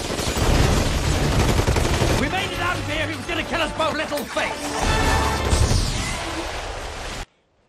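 Gunfire from a Kingsman film scene where Harry shoots Whiskey: dense, loud bursts of shots and crashing impacts pile up over a busy soundtrack, then cut off abruptly into silence.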